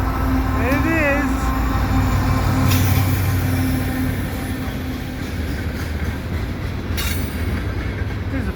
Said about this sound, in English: This is the first time I've gotten a freight train at this location.